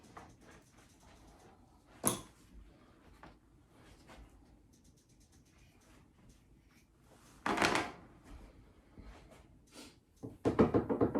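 A wooden furniture drawer is handled in a quiet room, with sharp knocks and thunks at intervals, a longer sliding scrape partway through and a cluster of clattering bumps at the end.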